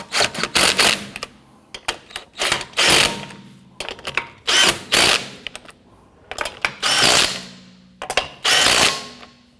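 Lug nuts on a 2017-2020 Hyundai Elantra rear wheel being snugged down with a power tool, close and loud in repeated short whirring bursts with clicks between them, about a dozen pulses with no talk.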